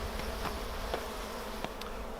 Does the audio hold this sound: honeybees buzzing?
yes